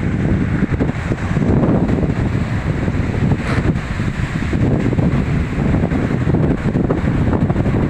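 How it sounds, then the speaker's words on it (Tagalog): Strong wind and rough waves on open water, a steady loud roar with wind buffeting the microphone and churning surf throughout, no voices. "malakas ang alon, no?"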